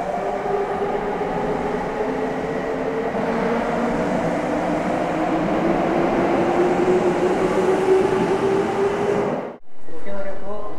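A train rumbles steadily through Osaka station with a rising whine, loud and close, then cuts off abruptly as it departs, leaving quieter station ambience.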